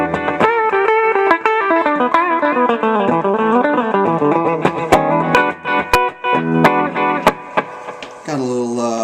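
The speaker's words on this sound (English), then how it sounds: "Got a little delay on there." An Ibanez S570 electric guitar played through a delay effect, a steady run of sustained, ringing notes with echoing repeats, punctuated by sharp picked accents toward the end, close and loud with no voices.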